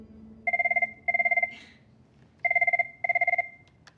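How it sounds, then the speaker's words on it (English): An office telephone rings in two double bursts of a trilling electronic bell, loud and close, with a quiet pause between the pairs. "Oh, we got a phone call."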